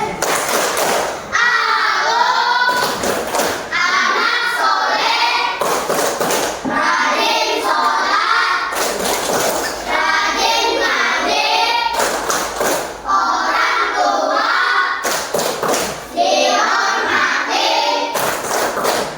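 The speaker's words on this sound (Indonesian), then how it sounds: "Ice breakingnya itu tentang tepuk anak soleh." An Indonesian class performs the 'tepuk anak soleh' chant-and-clap ice breaker, children's chanted voices alternating with sharp, loud bursts of rhythmic group clapping in repeated patterns.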